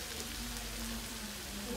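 Crab sizzling and crackling steadily as it fries with ginger, garlic and onion in a home kitchen, a dense, continuous hiss close up with no talking.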